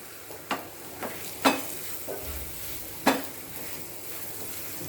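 Grated carrot fries softly in a pan, a low steady sizzle broken by a few sharp scrapes and knocks of a spoon stirring against the metal.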